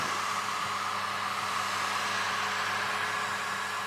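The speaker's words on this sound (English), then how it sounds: "we'll use the hairdryer with hot air to kind of melt the original stickers" A hair dryer blows hot air onto an iPhone 7 screen to soften its adhesive, producing a steady, even whooshing roar that stays close and constant throughout.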